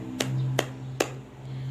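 Three sharp hand claps ring out evenly spaced in a classroom clapping game, crisp and close over a steady low room hum, with no talking between them.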